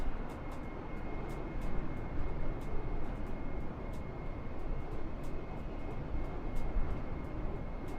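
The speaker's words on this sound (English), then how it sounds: "Got the plane taking a bit of a turn there." Steady broadband drone of an Airbus A320 airliner's engines and airflow during a banking turn in Microsoft Flight Simulator 2020, continuous and even throughout with slight swells and faint periodic ticks above it, no voices.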